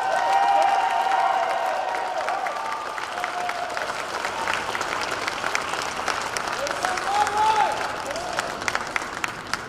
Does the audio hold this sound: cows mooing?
no